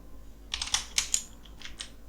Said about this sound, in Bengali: আমরা আমাদের ব্রাউজারে লিখব